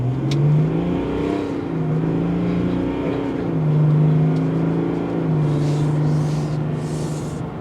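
The cabin of a 2023 GMC Sierra 1500 Elevation on Rancho shocks carries steady engine drone and road noise while driving. The engine pitch rises and falls with gentle acceleration, and no one talks over it.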